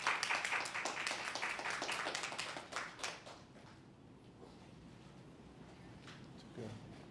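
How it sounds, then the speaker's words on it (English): Conference audience applause, loud and dense clapping from a large crowd that tapers off after a few seconds into scattered claps and room quiet. "So let's give him a loud round of applause."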